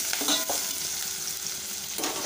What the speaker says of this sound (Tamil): வெங்காயத்தை வந்து வறுத்துக்கலாம்.